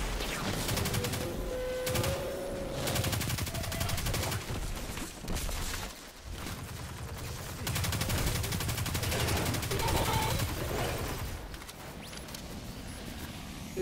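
Sustained rapid gunfire from a low-recoil weapon in Destiny 2 on Xbox One, during the Curse of Osiris story mission Deep Storage: loud, continuous bursts with brief pauses and other game effects mixed in.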